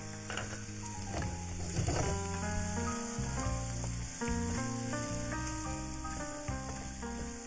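Okra and pumpkin sauté in a hot pan with a steady, close sizzle running throughout, faint overall, with no one talking.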